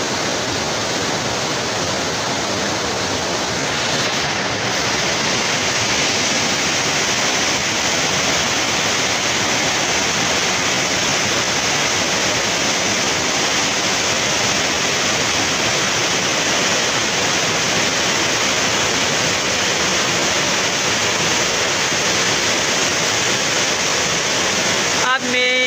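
Loud, steady roar of an umbrella-shaped waterfall, continuous broadband rushing water close by, unbroken throughout.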